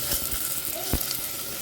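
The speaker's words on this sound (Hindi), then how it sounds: "अब प्याज को ना हमें 1 मिनट के लिए भून लेना है" Onions and tomatoes frying in a pan for a mushroom curry, giving a steady soft sizzle with light scraping and stirring taps throughout, fairly quiet and close.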